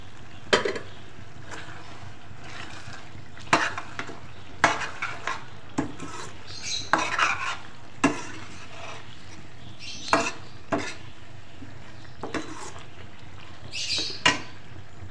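Spices, ground chilli, coriander and cumin stir-fry in a pan for aloo soya chunks curry, with repeated sharp scraping and clinking strokes of a spoon over a faint low sizzle, close up.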